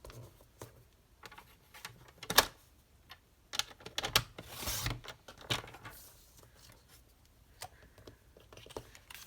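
A sheet of paper is trimmed for a card with a paper trimmer, giving soft clicks, taps and a brief sliding cut, close and quiet, scattered over several seconds without talk.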